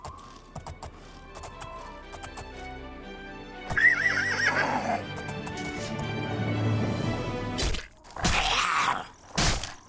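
A paint horse in Oblivion snorts and gives a long, loud whinny, with bursts of hoof clip-clop and breathy snorts around it, close and clear.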